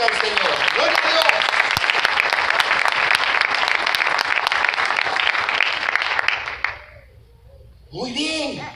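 A parish congregation claps together during a live church service, steady and loud for several seconds before dropping off, after which a voice calls out briefly and more clapping follows.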